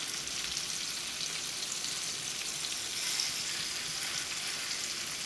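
Chicken pieces frying on high flame in a pan, a steady, moderate hiss and crackle of sizzling oil that runs evenly throughout with no talk.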